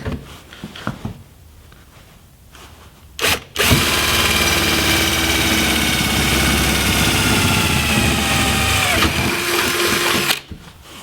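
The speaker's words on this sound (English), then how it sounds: "Then I'm going to take my drill and drill a hole." A power drill whirs loudly and steadily for several seconds, drilling a hole for off-road quarter panel armor, after a few short clicks and handling noises, then cuts off abruptly.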